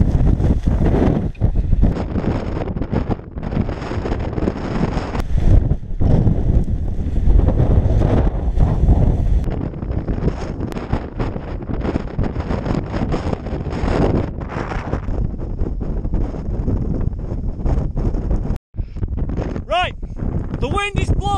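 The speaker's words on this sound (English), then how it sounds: "The wind is blowing that way." Strong wind blowing in a Siberian storm, with continuous heavy gusting buffeting and roaring across the microphone for the whole stretch, loud and close, with brief gaps and faint voices near the end.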